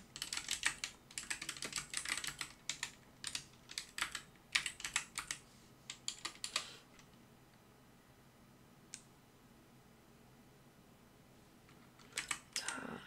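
Computer keyboard typing in bursts of quick clicks during spreadsheet work, pausing for several seconds with a single isolated keypress, then resuming briefly near the end, close and fairly quiet.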